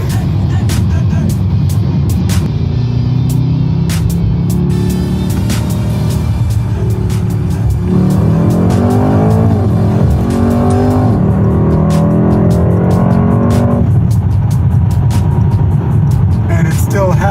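A Mercedes-AMG E63 S accelerates hard, its loud engine climbing in pitch through rising sweeps with gear changes, and people talk over it.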